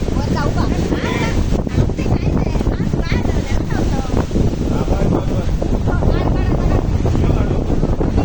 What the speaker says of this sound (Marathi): समुद्र जरा आता असं उसळलेला, ती लाटा मोठी मोठी येतात